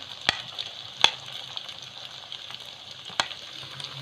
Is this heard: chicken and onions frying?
yes